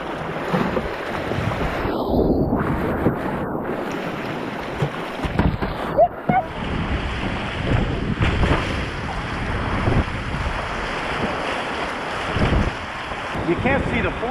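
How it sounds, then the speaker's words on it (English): Big swirling rapids on the Hiwassee River in Tennessee roar in a steady, loud wash of rushing water, with wind buffeting the microphone and a person's voice faintly heard amid it. "It's just big, fun, swirly water like this"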